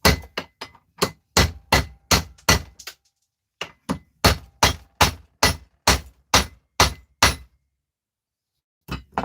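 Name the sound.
hammer striking brass fittings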